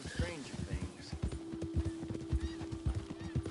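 Horse hooves clip-clop at a steady riding pace while riding in Red Dead Redemption 2, with a sustained tone and someone talking over the top.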